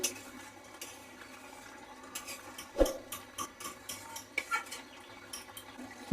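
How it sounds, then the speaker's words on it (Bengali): Katla fish kalia cooking in a pan and stirred now and then, giving sparse, fairly quiet clinks and scrapes of a spoon against the pan with soft bubbling between strokes, close by and without speech. "মাঝে মধ্যে এইভাবে নেড়ে দিব"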